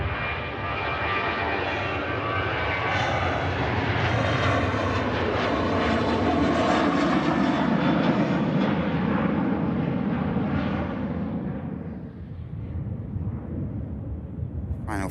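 A Qatar Airways Airbus A350-1000 on final approach into Manchester Airport, its jet engines a loud, steady roar that swells as it passes close, then fades and trails off into a distant rumble.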